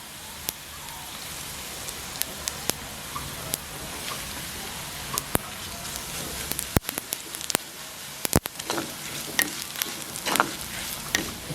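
Cumin seeds tempering in hot oil for a Jaffna-style jackfruit curry, a continuous fine sizzle with scattered sharp crackles and pops that grow busier toward the end, close by, with no talking.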